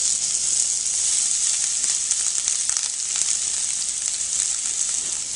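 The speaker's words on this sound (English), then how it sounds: "So I'm going to first start with the burdock root. saute and the carrot" Matchstick-cut burdock root and carrot sauté in hot olive oil, a loud, steady close-up sizzle with bright hissing and occasional soft stirring clatter, no talk.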